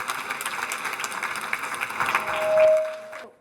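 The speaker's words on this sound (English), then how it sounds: "Let's give yourselves a round of applause." Audience applause at a collaboration presentation: a steady, moderately loud wash of clapping for about three seconds, then a brief tone rises near the end as the clapping tails off abruptly.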